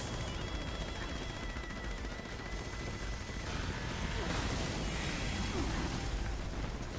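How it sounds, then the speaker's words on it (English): Heavy continuous automatic fire from a minigun in Fallout 76, a dense unbroken roar of rapid shots with a steady rattling texture that runs loud and close throughout, with a voice faintly present underneath. "it keeps on messing up the wind-up for the minigun"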